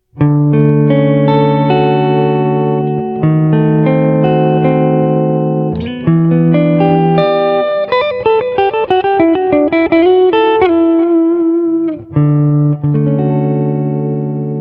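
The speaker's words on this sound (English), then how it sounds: "Let's just test out some clean tones, just playing some soft chords." Soft, clean electric guitar chords ring out through a Positive Grid Spark practice amp, sustained and warm, with a few picked passages between strummed chords.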